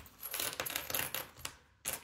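Coins go into a Roik Flap Coin wallet with a run of light metallic clinks and rustles, several quick jingling bursts close by, then a brief pause and a final clink, no talk.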